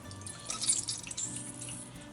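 Soaked bread squeezed by hand over a bowl, releasing a brief wet trickle and dripping of water, close and fairly quiet, with no talking.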